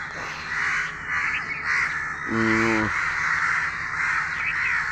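A single loud, harsh crow caw rings out once amid steady outdoor hiss, part of a flock of crows gathering to help another crow in distress.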